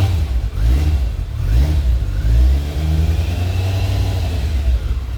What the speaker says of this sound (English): the exhaust is the right balance between, it does have a bit of gruffness to it, but it's very quiet, very smooth